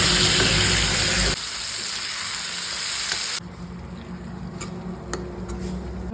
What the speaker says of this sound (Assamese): আলু ফ্ৰাই কৰি দিছে।